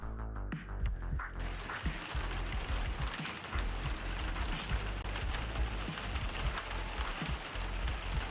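Outdoor rain ambience for a point-and-click game, a dense steady patter of rain on surfaces, continuous and even, quiet but filling the whole stretch without speech.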